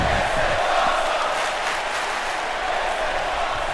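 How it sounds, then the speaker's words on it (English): Crowd at a live independent wrestling show in Canada applauding and cheering, a dense continuous roar of clapping and voices filling the whole stretch. "The crowd here in Canada is loving it."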